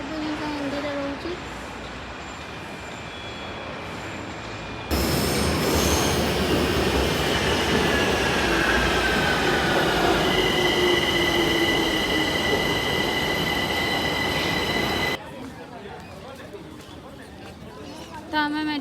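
A Delhi Metro train running on its rails, loud rumbling and clattering with squealing wheels and high whining tones, entering abruptly and cutting off after about ten seconds, with quieter ambience before and after.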